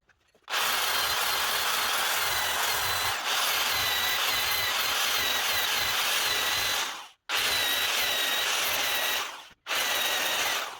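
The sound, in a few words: power drill drilling into old truck rocker panel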